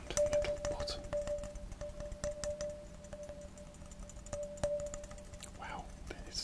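Fingertips tapping on the metal bottom of a portable insulated coffee cup, soft close clicks in scattered bursts with a faint steady hum behind them.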